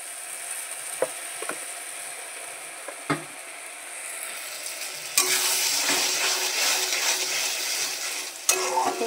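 Liquid date-palm jaggery poured into a pan of tomato chutney sautéing with spices: quiet scraping and stirring at first, then a louder burst of sizzling and frying that continues close by, with a few sharp clinks of the utensil.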